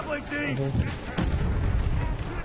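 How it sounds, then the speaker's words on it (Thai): Gunfire in the video game Inversion, sharp cracks and booming shots scattered through the clip, with game voices and music tones underneath and a player talking over it. "เฮ้ยมันยิงมาจากไหนวะ"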